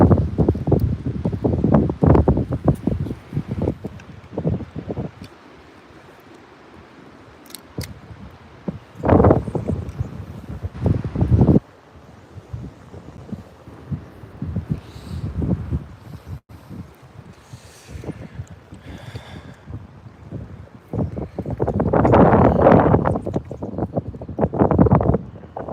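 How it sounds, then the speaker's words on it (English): Strong gusting wind buffets the microphone outdoors on the water during a bass fishing trip, roaring in loud bursts with calmer gaps between, and someone talks briefly. "Man, that wind is definitely brutal."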